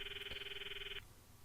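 A phone in the Steins;Gate visual novel gives a single sustained electronic ring lasting about a second, clear and steady, then cuts off to quiet room tone.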